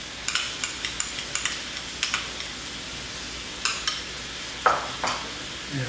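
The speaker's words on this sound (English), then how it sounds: "And we're going to mix this in." Capers and tomato paste stirred into eggplant caponata in a pan: a run of quick scraping spoon strokes over a soft, steady sizzle, fairly close, with no talking.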